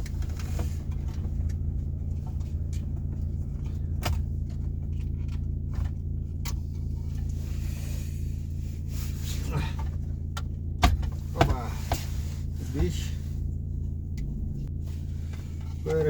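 A Chevrolet Lacetti engine idles steadily while warming up, a continuous low rumble close by with a few faint clicks and brief rattles partway through.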